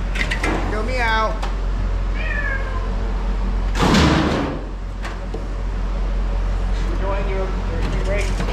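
A cat meows a few times among people talking, with rising wavering cries near the start and again around the middle, and a loud clattering bang partway through.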